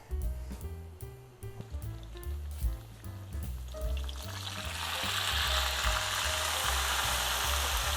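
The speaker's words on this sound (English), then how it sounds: "By cooking your seitan in a lot of oil and a lot of fats, it actually makes it taste a lot more meaty." Seitan fried in a generous amount of oil, a steady close sizzle that swells into a dense, crackling hiss, with clinks and stirring at the start.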